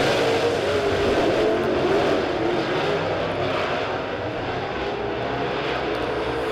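Late model race cars in a heat race at Springfield Raceway, their engines roaring together in a sustained, loud, blended drone as the pack comes through turns three and four.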